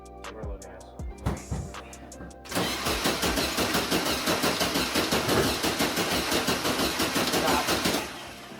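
1974 VW Beetle engine cranking, a few short starter bursts followed by a long run of rhythmic, chugging turnover that never catches and then stops.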